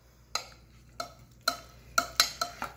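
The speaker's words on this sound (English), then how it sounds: "We're going to mix this together" Peach tart filling stirred in a bowl, seven distinct clinking scrapes of a utensil against the side, spaced roughly every half second and speeding up slightly near the end, close and fairly quiet over a low hum.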